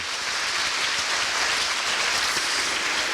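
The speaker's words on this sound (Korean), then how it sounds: "다시 한번 두 분께 큰 박수 부탁드리겠습니다." A large audience at a year-end foundation event applauds two guests on stage, a loud, dense and steady wash of clapping that fills the room without letup.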